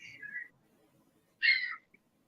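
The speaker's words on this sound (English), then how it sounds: "That's the birds. Birds out here. They're all up there." Birds call from overhead outdoors: a short high chirping burst at the start, then a louder, fuller call about a second later and a brief faint note after it, over quiet background.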